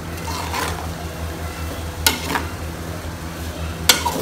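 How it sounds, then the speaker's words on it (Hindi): Whole spices, black pepper, green cardamom and garam masala with two curry leaves, are stirred in a pan with a steady low sizzle and occasional scraping clinks of the spoon, close by with no talk. "ये सारे मसाले मिक्स करेंगे अच्छी तरह"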